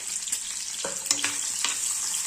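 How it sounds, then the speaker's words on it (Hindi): Chopped onions frying in ghee with coriander seeds, a steady hiss of sizzling with a few light scrapes of stirring, close and even with no speech. "हल्का सा भुनने के बाद डाल देंगे कटे हुए प्याज।"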